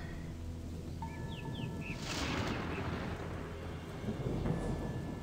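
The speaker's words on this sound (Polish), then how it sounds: "Zrobiła się burza." Thunder in the Gothic II video game, a deep rolling rumble over steady storm rain and low ambient drone, swelling into a louder crack mid-clip before settling back, with a few faint bird chirps early on.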